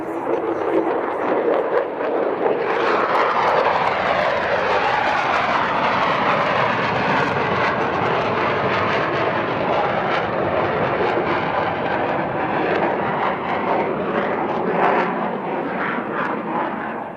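F-35 fighter jets fly over Vermont with a loud, continuous roar that swells and holds for many seconds, broad and rushing, close overhead.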